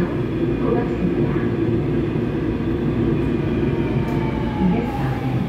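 Daegu Metro Line 1 subway train pulling into its terminal station, a steady close rumble and rolling wheel noise inside the car with faint brake squeals, continuous and loud.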